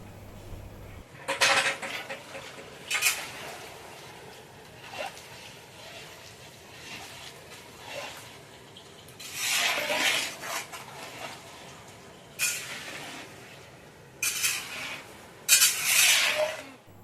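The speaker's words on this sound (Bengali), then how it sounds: "এখন দিয়ে দিচ্ছি ভেজে রাখা পটলগুলো," Fried pointed gourds added to a large cooking pot for a pointed gourd and prawn dish and stirred, with intermittent bursts of metal scraping and clinking between quieter stretches of soft background noise.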